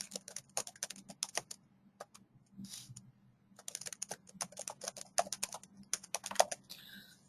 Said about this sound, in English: I could type a note here